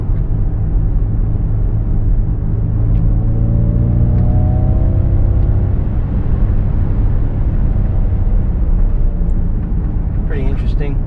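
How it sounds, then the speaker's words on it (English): A 2021 Ford Mustang Mach-E electric car accelerates with a synthesized V8-like engine sound: a steady low rumble with rising tonal sweeps, heard from inside the cabin with a voice talking over it. "almost like you get a little bit of a V8 sound"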